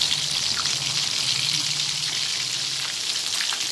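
Prawn balls fry in hot oil, a dense, even crackling sizzle heard up close and without pause for the whole stretch, with no voices.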